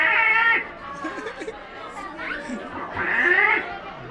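A clown at a children's show in Guadalajara vocally imitates a kitten meowing: two drawn-out, high, wavering mews, one at the start and one near the end, with lively talk and chatter from the audience in between.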